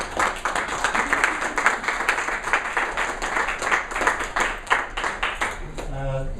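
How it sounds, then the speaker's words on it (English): Audience applause at a property investors' event, a steady stretch of clapping lasting several seconds with dense, even hand claps, ending with a short voice at the close. "Okay, brilliant. Round of applause."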